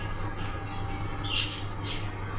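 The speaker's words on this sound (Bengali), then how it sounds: "বাজিগার, জাপানিজ বাজিগার" Two short, shrill squawks from a pet Japanese budgerigar near a cage being set up at home, rising over a steady low hum with no talking.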